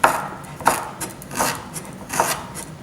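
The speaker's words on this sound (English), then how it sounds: "slice it kind of thin" A knife slices thinly through a piece of fresh ginger on a cutting board, giving four evenly spaced, crisp cuts close up with no talking.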